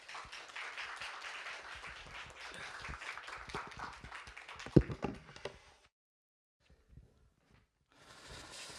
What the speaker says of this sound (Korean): 우리 나오실 때 큰 박수로 격려해 주시고 환영해 주십시오.